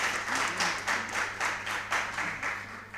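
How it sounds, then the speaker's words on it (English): Audience applause for a school team at a junior high quiz competition, moderate clapping in rhythmic bursts over a steady low hum, fairly even throughout. "A round of applause for Crown Prince."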